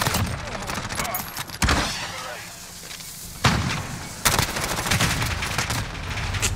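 Rapid MP5 submachine gun fire during a Hardpoint match in Call of Duty: Modern Warfare, loud bursts crackling in short clusters with sharp transients, alongside general game noise.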